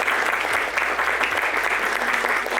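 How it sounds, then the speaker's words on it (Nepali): Guests at a wedding ceremony break into steady, loud applause, a dense continuous clapping from a gathered crowd. "हामी ताली बजाएर"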